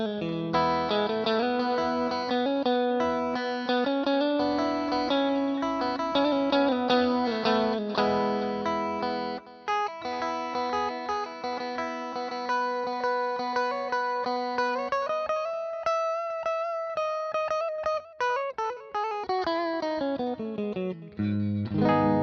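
An electric guitar through a Boss ME-90 delay plays a slow melodic line drenched in delay, each note echoing and trailing off into a spacious, repeating wash.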